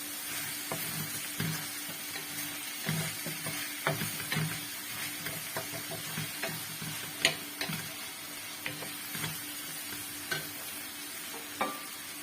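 Chicken and peppers for a paella are stirred in a frying pan, with a quiet, steady sizzle under soft scraping and occasional light clinks from the utensil.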